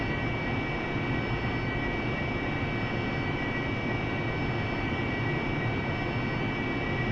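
A Harrier jet in the DCS flight simulator gives off a constant, dense engine roar with a thin high whine, steady and unbroken, with no speech.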